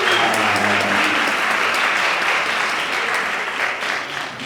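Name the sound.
audience applause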